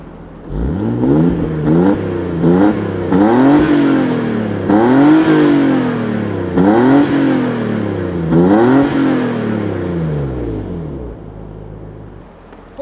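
A Nissan Skyline ER34 25GT-V with a road-legal muffler, revved repeatedly from idle: about seven rising-and-falling blips, each swelling to a throaty roar and dropping back, before settling to a low idle.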